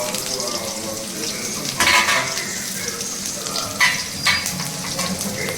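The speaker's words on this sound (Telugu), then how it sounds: "అండ్ ఆనియన్స్, వెల్లుల్లి కొంచెం దంచుకొని వేసుకోండి." Chopped onions and crushed garlic frying in a pan give a steady sizzle, broken by a few louder stirring scrapes.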